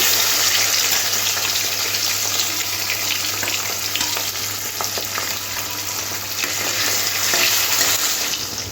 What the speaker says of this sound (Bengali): বাকি যে মাছের পেটি দুটো আছে সেগুলো দিয়ে দিলাম